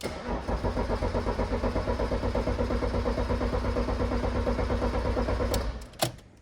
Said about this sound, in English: It's going to turn over, but it's not going to start.